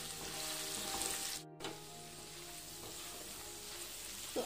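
Diced potatoes frying in a pan for sabudana khichdi, a steady close sizzle with a brief dropout partway through, no talking.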